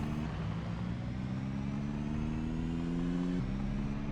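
A car engine drones steadily in the survival game Project Zomboid, a low even hum that shifts pitch once near the end, close and continuous with no talk.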